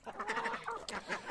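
Farmyard ducks and chickens in an evening flock, a short burst of quacking and clucking calls overlapping close by, quiet and busy, with no human voice over them.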